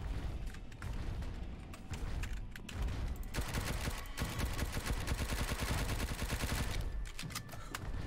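A gun fires in a dinosaur combat video game, dense bursts of rapid automatic gunfire that rise into a sustained loud volley before easing off.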